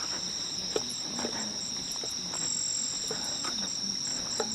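Crickets and other insects chirp at night in a rice field in a Japanese village, a steady high trill carrying faint scattered calls of other insects, with no talk.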